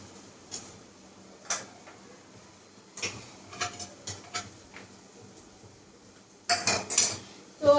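A spatula stirs and fries spices with chili and turmeric in a pan, giving intermittent metallic clinks and scrapes that come in small clusters and grow busier toward the end, close by and without talk.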